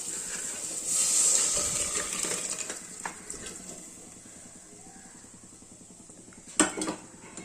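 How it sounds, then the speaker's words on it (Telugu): Pre-boiled potato and beef pieces poured into a hot pan of spiced curry base, giving a steady close sizzle with scraping and clinking of a utensil against the pan, and a sharper clatter near the end. "మనం ముందుగా ఉడికించుకున్న పొటాటో బీఫ్ని దీంట్లో పోసుకోవాలి."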